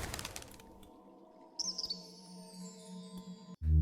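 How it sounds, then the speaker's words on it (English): A little bird chirps in the Colossal Cave video game, a short bright flurry of tweets over a soft sustained ambient drone, followed by a low thump near the end. "The little bird won't let you near it."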